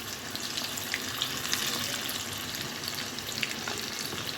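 Bombay duck fish and onion fry in hot oil, giving a soft but continuous sizzle with small crackles, even and unbroken throughout with no talking.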